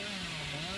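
The Hillbilly's chainsaw revving in the Dead by Daylight video game, a steady loud buzzing engine drone, held without pause and heard alone.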